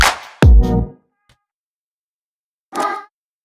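Nintendo 64 Mario entering a level sound effect: a sharp bright hit with a falling tone, followed after a silent gap by a short, separate chirpy burst, both clear and close.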